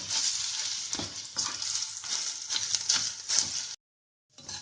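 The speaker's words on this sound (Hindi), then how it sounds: "अब इसको हम अच्छी तरह से दाल को भूनेंगे।" Urad dal with a little salt roasting and being stirred in a pan makes dry rustling and scraping in uneven bursts, close up, with a short gap of silence near the end.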